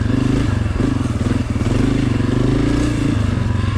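A Honda CRF250F dirt bike's engine is revved hard and held at throttle during pivot turns, giving a loud, continuous, close four-stroke growl with a rapid pulsing rhythm, slight dips and some clatter.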